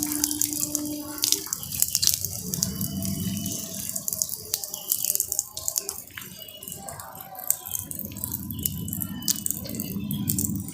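Overflow water running out of an aquarium fish tank at a wholesale fish shop, a steady close trickle and drip with light splashing, continuous and fairly quiet, with faint voices in the background.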